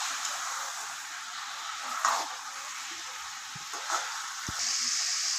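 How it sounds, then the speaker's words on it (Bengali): Steady sizzle of chicken meat frying on high flame for biryani, a broad continuous hiss with a few brief stirring clinks, moderately close and with no talking. "এবার এগুলোকে মাংসগুলোকে আমরা 2 মিনিট হাই ফ্লেমে ভালো করে কষাবো"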